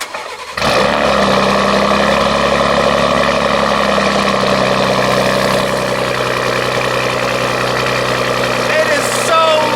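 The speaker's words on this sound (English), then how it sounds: "a clip I recorded earlier when the truck was cold and I remote started it" A 2019 Ford Raptor pickup with a decatted exhaust fires up on a cold remote start and settles into a loud, close, rumbling idle that holds steady for several seconds.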